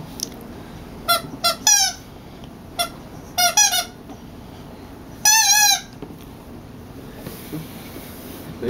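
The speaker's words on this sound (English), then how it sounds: "He's just squeaky. Everybody's favorite chew toy." A squeaky rubber dog chew toy is squeezed in quick pairs and bursts of high, whining squeaks, close and clear, separated by quiet pauses over a faint background.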